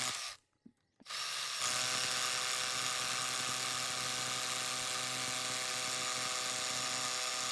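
A steady, loud drill bores into stone for a set of stone steps, running continuously with a high whine and buzz after a brief pause at the start.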